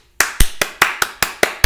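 Eight crisp hand claps at a slow, even rhythm, close and loud, each sharp smack standing alone with nothing else around it.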